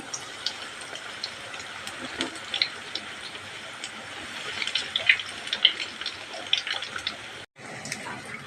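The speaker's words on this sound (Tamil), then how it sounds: "எல்லா கட்டலத்தையும் இதே மாதிரி வறுத்து எடுக்கணும்" Vegetable cutlets frying in hot oil give a steady, soft hiss sprinkled with small crackles and pops, broken by a brief dropout near the end.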